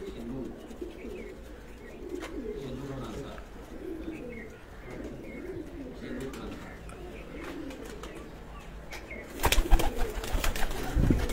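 Pet pigeons in a home loft chorus with soft, repeated cooing throughout, a little muffled, until a burst of louder flapping and clattering near the end.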